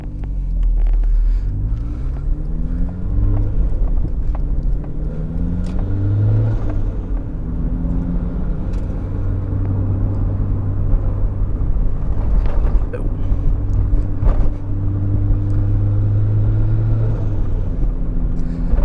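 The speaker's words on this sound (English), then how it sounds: "you get the nice whoosh of the turbo, then you know, you hear the wastegate" A turbocharged Mazda Miata making about 300 wheel horsepower pulls hard, its loud engine note climbing and falling through rising pitch sweeps, with a continuous steady drone carrying through the later stretch.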